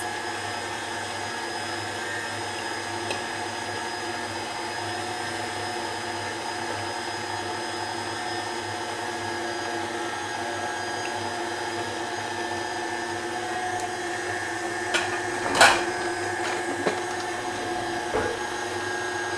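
An electric stand mixer working pasta dough on low speed as eggs go in, heard as a steady, droning motor hum with a constant whine running throughout, broken by a couple of brief clinks near the end.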